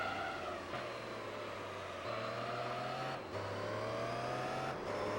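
In the video game Gran Turismo 3, a Pagani Zonda race car engine drones at high revs. Its pitch climbs through each gear and drops sharply at every shift, repeating several times, with no talking.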